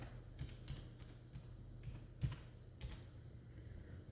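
Password being typed on a computer keyboard while setting up NFS on a Buffalo TeraStation for Debian, a quiet run of soft key clicks at an irregular pace with one slightly sharper tap near the middle, no talking.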